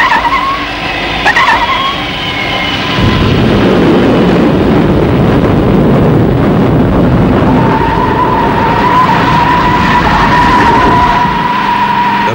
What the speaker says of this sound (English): Brakes are applied, but the wheels catch fire